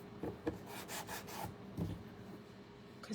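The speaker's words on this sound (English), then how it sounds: "I like to smooth out my paint with some sandpaper" Sandpaper smoothing a painted surface on a craft figure, a few short close rubbing strokes in quick succession followed by softer scraping, with no talk.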